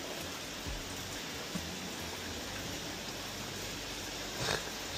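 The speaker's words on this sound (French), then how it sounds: "Il fait pas froid, mais il pleut." Steady rain falls outdoors as a dense, even hiss with occasional louder drops and soft knocks, moderately faint and unbroken across the whole stretch.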